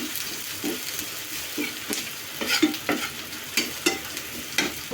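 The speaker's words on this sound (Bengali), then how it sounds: "দিয়ে দিলাম রসুন কুচি দিয়ে একটু নাড়াচাড়া করবো" Chopped garlic frying and being stirred in a pan, a steady sizzle broken by repeated scraping strokes of the spoon at an irregular rhythm, close and moderately loud with no talk.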